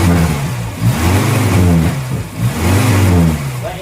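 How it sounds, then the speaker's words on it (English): A Morris Minor with a slight misfire idles after a cold start and carb rebuild, its engine note loud and raspy, rising and falling in uneven surges as it runs unevenly. "Let you hear that moggy foul rasp."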